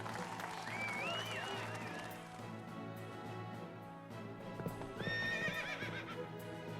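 Horses in a summer race in the video game Fate Grand Order neigh twice in shrill whinnies, with hooves clip-clopping underneath and faint background music.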